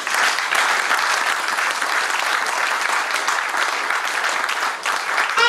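A church congregation applauds during a sermon, loud, dense and sustained clapping from many hands that fills the room without a break.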